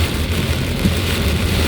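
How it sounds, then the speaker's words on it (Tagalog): Heavy typhoon rain pounds on a moving car, a dense, steady roar of drops drumming the roof and windshield with a low road rumble underneath. "May ganitong ulan, grabe oh. Galit talaga yung ulan guys."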